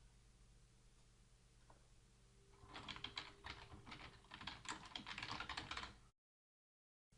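An email address is typed on a computer keyboard, a quick close run of soft key clicks that starts after a quiet stretch and stops abruptly.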